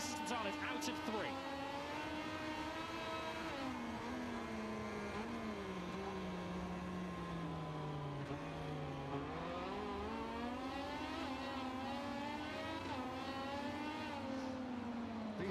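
Onboard a Moto2 race motorcycle ridden by Gonzalez at the Red Bull Ring, the engine screams continuously, its pitch sweeping down and back up through gear changes and corners, close and loud, with commentary voices faintly underneath.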